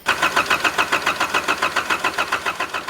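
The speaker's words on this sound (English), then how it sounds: "pulled out the injectors one at a time to see if it made any difference on starting up as each one was out" A Nissan Patrol 3-litre diesel engine cranks over with its injectors removed. The starter turns it in a loud, steady, rapid rhythmic churn that never catches.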